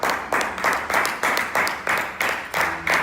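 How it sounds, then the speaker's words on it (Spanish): A church congregation claps in unison, about nine strong rhythmic beats at an even tempo with a short swell on each one, loud and close, with a voice coming in at the very end. "Dame un aplauso bien fuerte al Señor."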